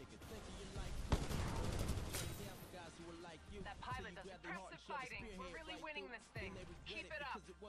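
Rapid bursts of gunfire in the sci-fi shooter Titanfall 2 crackle through the first few seconds, sharp and dense, then thin out as voices talk over the remaining fight noise.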